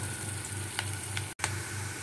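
Soft, steady sizzling of ingredients frying in a pan for Mumbai-style pao bhaji, continuous and fairly quiet with one brief dropout.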